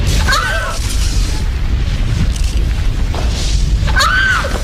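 Deep explosion booms from a TV scene of fireballs falling from the sky, loud rumbling blasts with two sharper bursts near the start and end.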